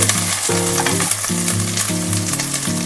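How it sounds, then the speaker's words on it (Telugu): Ginger garlic paste sizzling and frying with onions in a pan for egg fried rice, a loud steady crackle with stirring scrapes throughout, no voices. "జింజర్ గార్లిక్ పేస్ట్ని కొంచెం ఇలా ఆనియన్స్తో కలిపి ఒక టూ మినిట్స్ వన్ మినిట్ అంతే"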